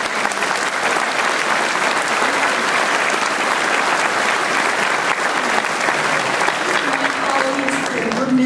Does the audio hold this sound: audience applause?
yes